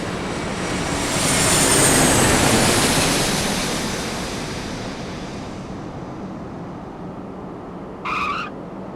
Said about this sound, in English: Let's see how this Vietnam Dreamliner handles that crosswind.